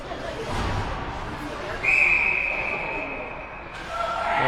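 A referee's whistle shrills at an indoor ringette game, one sustained blast lasting a couple of seconds over arena crowd noise and an announcer's voice.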